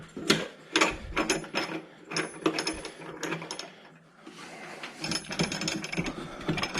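A Rotopax spare tire mount is loosened with a ratcheting tool, producing close, rapid metallic clicking bursts with a short pause midway.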